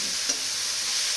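Onions fry in hot oil for a fish dish, giving a steady, close hiss of sizzling that holds evenly throughout with one faint tap, and no voices.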